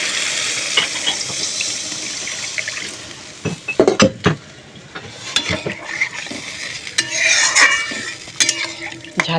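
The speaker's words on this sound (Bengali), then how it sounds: "এবার মিলিয়ে দেবো জল।" Water stirred into a fried spice paste in a pan for a fish curry, with loud, close scraping and clanking of a utensil against metal over a wet, bubbling sizzle.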